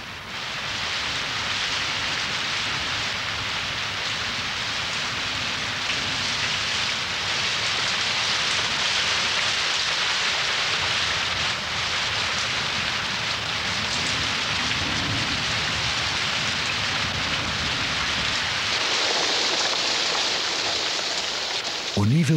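Heavy rain pours down steadily as the wet season returns in the Maya Mountains after nearly four months of drought, a dense continuous hiss with occasional low thunder rumbles beneath.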